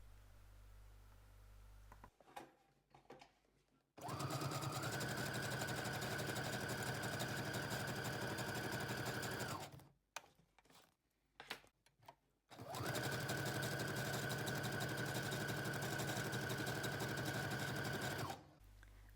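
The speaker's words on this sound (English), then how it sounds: "So we're going to sew the edges" An electric sewing machine stitches along the edges of old magazine pages for a junk journal, running in two long steady bursts of close, even mechanical whirring separated by a pause with small handling noises.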